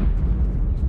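Deep, rumbling explosion from a plane going down in a Blackout battle royale match, a loud sustained low boom filling the whole moment with no talk over it.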